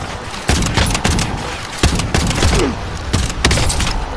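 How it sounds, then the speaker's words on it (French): Bursts of gunfire from the video game Warzone crack repeatedly in quick volleys, loud and close, with several sharp shots spaced across a dense background of game noise. "On me tire dessus."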